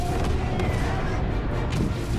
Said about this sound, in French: Ok, ça c'était toute une explosion.